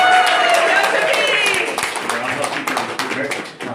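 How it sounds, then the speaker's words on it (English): Birthday party magic show audience clapping and cheering close by. The applause is strongest at first and fades over a few seconds, with voices talking over it. "Have a big round of applause."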